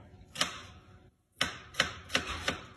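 A knife chopping an onion on a board, five sharp, close strikes in an uneven rhythm with a brief silent gap near the start.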